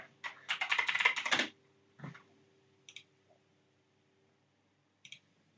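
Keys clatter on a wireless keyboard that connects by Bluetooth or a dongle, a dense burst of rapid typing followed by a few isolated clicks and taps, close and clear against a quiet room.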